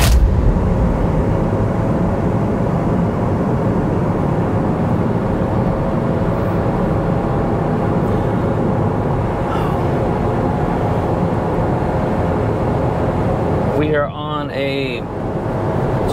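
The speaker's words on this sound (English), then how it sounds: "So let's test drive this vehicle, see if we can hear that noise over there" Steady road and tire roar from inside a 2017 Kia Niro on a test drive, a continuous loud drone with a brief disturbance near the end.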